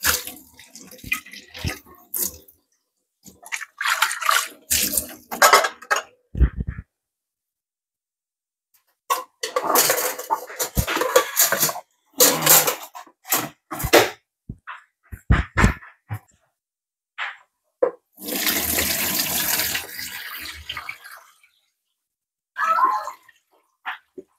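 Water drains from pickled mango in bursts of splashing and pouring, broken by quiet pauses, with a longer heavy stream near the end.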